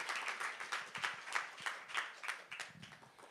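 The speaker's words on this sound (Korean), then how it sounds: "환영의 박수를 보내겠습니다" A church congregation at a Thursday worship gathering claps to welcome a guest pastor, a fairly quiet, rhythmic round of claps with distinct individual strikes pulsing steadily throughout.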